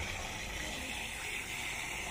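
Water gushes steadily from a hose while plants are watered outdoors, a constant rushing hiss at low level with no pauses.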